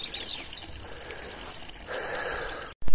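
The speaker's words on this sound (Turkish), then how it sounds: "Şimdi burada sularımızı dolduralım." Water from a mountain spring in a forest runs steadily as it is collected, making a soft, continuous trickle. The sound grows louder and brighter near the end as the filling changes, then breaks off with a handling clunk.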